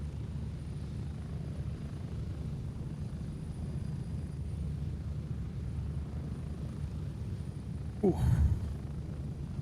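Low, steady droning rumble of a helicopter flying in the video game Gray Zone Warfare, constant throughout, with a brief vocal exclamation near the end.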